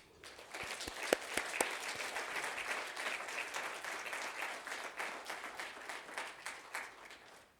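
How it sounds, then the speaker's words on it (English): An audience at a panel event applauds church guests before prayers, a few distinct claps swelling quickly into a full, sustained round of clapping that thins out toward the end. "Could you please give them an applause?"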